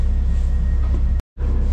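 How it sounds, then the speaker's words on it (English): A tram pulls into a stop in Birmingham with a loud, steady low rumble and rhythmic mechanical throbbing close by, broken by a brief cut to silence. "We'll get to experience the tram anyway, so there's one pulling in on this side and we're going."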